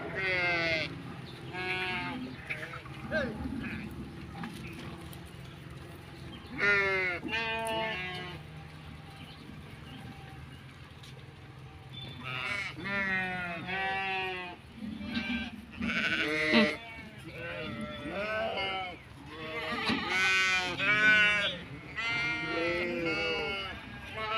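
Goats bleating repeatedly as herders pass with their flock on a Gujarati farm, loud and close, with many overlapping calls in bursts and people talking at times underneath.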